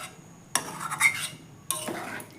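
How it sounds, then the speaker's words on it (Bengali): A spoon stirs vegetarian ghugni in a pot, making scraping, rubbing metal sounds in two close bursts with a short quiet gap between them and no talking. "ভালো করে দেখো নাড়াচাড়া দিয়ে দিচ্ছি"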